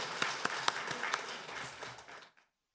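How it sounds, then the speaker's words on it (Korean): A church congregation applauds as an offering to God after a prayer, a dense wash of many hands clapping with a few sharper claps standing out, steady for about two seconds before fading quickly to silence. "박수로 하나님께 올립니다"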